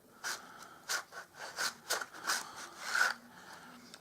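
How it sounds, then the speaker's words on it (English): A 1 1/4 inch hole punch cuts holes in card, giving a series of short, crisp crunching and scraping bursts, about eight in quick succession, close and fairly quiet. "if we take our hole punch, 1 1/4 inch punch"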